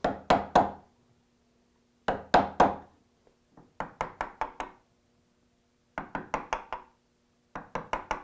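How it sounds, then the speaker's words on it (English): Mortising chisel chopping out waste wood while registered against a guide, heard as clustered sharp knocks in groups of three to five with short pauses, close and fairly loud, no speech. "it's simply a matter of wasting out that material with the back of my mortising chisel registered directly against the guide"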